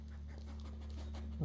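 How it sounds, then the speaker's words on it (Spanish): A dog pants softly in the horror video game Blair Witch, a faint, quick rhythmic breathing heard alone over a low ambient drone. "Ahí está mi perro."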